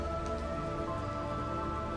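Rain falls steadily on a surface, an even, dense hiss of drops that holds constant throughout with no voices.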